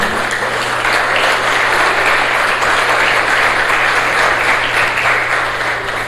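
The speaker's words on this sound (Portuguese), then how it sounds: "A salvação, pode aplaudir." Steady, dense applause from a church congregation during a sermon, loud and continuous throughout with a low hum underneath and no talk.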